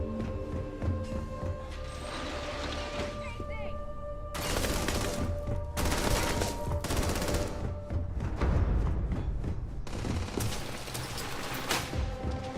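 Gunfire in the video game Starfield, repeated loud bursts of shots mixed with game sounds and music, with talking voices layered over the action.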